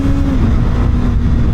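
A 2025 Kawasaki Ninja ZX6R sport bike engine revs loudly and close, a steady high-pitched whine with a tone that shifts slightly, over dense low rumble and wind.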